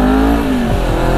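A Honda CBR250RR motorcycle engine pulls hard from first gear, a loud, close, steady drone whose pitch rises and then drops sharply at a shift, with no talk.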